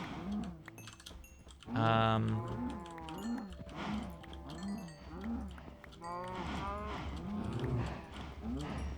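Cows in the video game Minecraft low repeatedly, with several synthetic moos layered over one another. The calls come in a steady, close and fairly loud sequence over faint game ambience.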